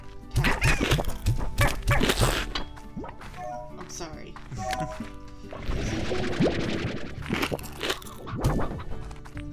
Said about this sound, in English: I like the munching sounds.